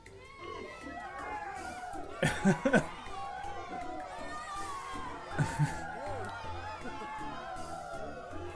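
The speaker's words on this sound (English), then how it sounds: "All the little penguins are cheering in the factory." Small cartoonish voices cheer and chatter together in a busy crowd, with a couple of louder squealing bursts of excitement rising above the babble.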